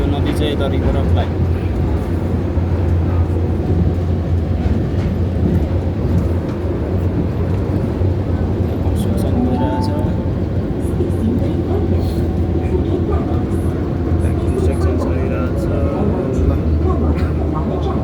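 A KL Monorail train runs on its elevated track above a street, giving a steady, continuous rumble that stays at an even loudness throughout, heard from on board.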